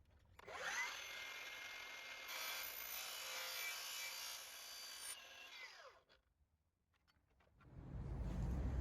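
A saw cuts through OSB sheathing board for a sunroom glass roof repair, a close, steady rasping grind for about five seconds, then quiet and a low rumble.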